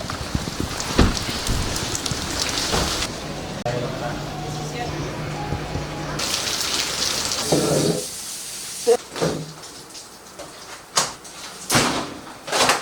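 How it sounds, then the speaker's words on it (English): Rain pours outdoors during a drift car prep day, a steady broadband patter filling the scene, with a few door-like thumps and knocks and voices talking nearby. "It's starting to rain"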